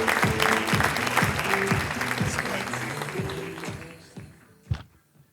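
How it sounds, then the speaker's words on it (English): Audience applause for panellists at an audio summit, dense clapping from a room full of people with a voice and music underneath, fading out over the last second with a final loud thump. "round of applause, ladies and gentlemen."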